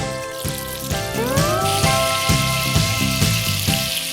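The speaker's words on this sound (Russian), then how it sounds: "Вот на этом жире и обжарим." Halved tomatoes and beefsteaks fry in hot fat in a pan, giving a loud, steady sizzle and crackle that runs throughout with no voices.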